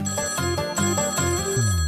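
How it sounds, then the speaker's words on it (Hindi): A telephone rings with a steady electronic trill, repeating in quick pulses, loud and close, with no one speaking. "फोन बज रहा है।"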